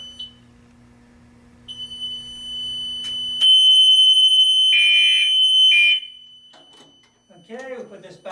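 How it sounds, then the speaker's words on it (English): A building fire alarm sounder triggered during an isolator test sounds as a loud steady electronic tone, with brief bursts of pulsing beeps near the end and some talk in the background. "the alarm should work"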